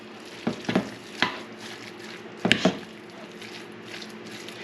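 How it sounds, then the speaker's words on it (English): Deer jerky meat in marinade with liquid smoke gets stirred, giving several wet scraping strokes in small clusters over a faint background hiss, close and fairly quiet without speech. "And we're going to stir it up."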